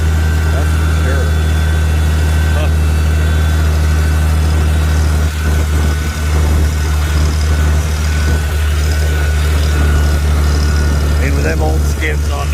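A Farmall 756 tractor running in low fourth gear direct drive, its diesel engine droning loud and steady with a deep constant rumble, while people talk over it.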